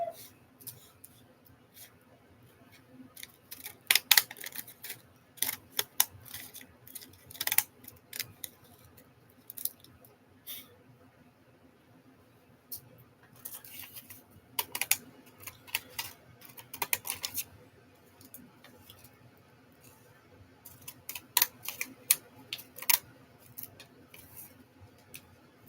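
Scissors with wavy blades cut through paper in a string of short crisp snips and crunches, close and fairly quiet, coming in clusters with pauses between them.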